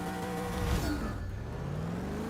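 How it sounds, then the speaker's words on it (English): A car fitted with a big single turbo accelerates in the racing game Forza 6. Its engine tone climbs steadily in a close, continuous rising whine-and-rumble that holds for a couple of seconds. "And obviously there's that lovely blow-off valve."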